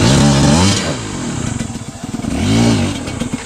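A two-stroke MPX250 motorcycle engine revs up and down close by, rising and falling twice with a rattling idle in between.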